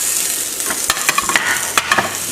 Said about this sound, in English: you put it this way in the frying pan